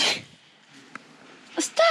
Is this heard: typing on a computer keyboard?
no